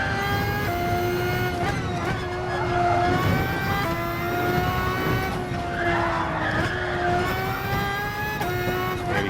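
Red Bull X2014 race car in GT Sport screams at high revs around the Nürburgring, a loud sustained whine with quick gear shifts and tyre squeal through corners, no talk.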